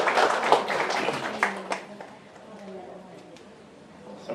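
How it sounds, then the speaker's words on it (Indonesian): An audience applauds three graduating students at a Qur'an memorization graduation ceremony, a burst of brisk clapping that quickly thins to scattered claps and fades out. "Tepuk tangan untuk mereka bertiga."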